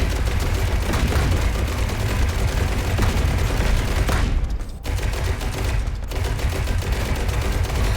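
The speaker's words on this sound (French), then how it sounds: "Ça tire des missiles." Spider enemies in the video game ITER 8 launch missiles amid a dense, continuous barrage of rapid gunfire-like blasts and booms, loud and sustained, with two brief dips in the din.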